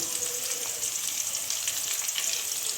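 Asafoetida frying in hot oil for a tomato pickle, a dense continuous sizzle heard up close with faint stirring underneath.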